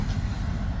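Northbound FEC freight train rolling across an old bridge, a steady loud low rumble of wheels and cars, close by, with no voices.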